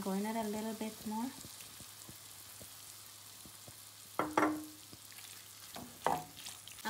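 Ground meat sizzles steadily in a pan for a cottage pie, with scattered clicks of a utensil stirring and scraping. A voice is heard briefly at the start, and a couple of louder scrapes break through later.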